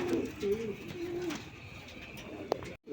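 A male Afsan Grizzle pigeon coos softly in low, rolling phrases, several coos in a row close by, followed by a brief sharp knock near the end.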